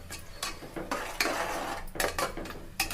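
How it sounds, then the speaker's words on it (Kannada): Spice paste frying in a pan, heard as repeated metal scraping and clinks of a spatula against the pan over a faint, low sizzle, with no talking. "ಇದು ಹಸಿ ವಾಸನೆ ಹೋಗೋವರೆಗೂ ಚೆನ್ನಾಗಿ ಫ್ರೈ ಮಾಡ್ಕೊಳ್ಳೋಣ."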